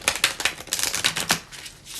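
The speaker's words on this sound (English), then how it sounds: "Now I can start shuffling again." A deck of tarot cards is shuffled close up, a rapid run of crisp papery clicks and riffles in quick bursts with no talking.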